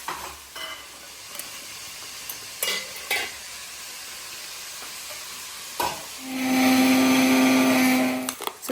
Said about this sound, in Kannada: ಸೊ ಸ್ಮಾಲ್ ಮಿಕ್ಸಿ ಜಾರಲ್ಲಿ ಇದನ್ನ ಪೇಸ್ಟ್ ಮಾಡ್ತೀನಿ.